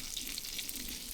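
Fish sizzle steadily in oil in a kadai over a wood-fired village stove, a continuous close, soft crackling hiss without speech.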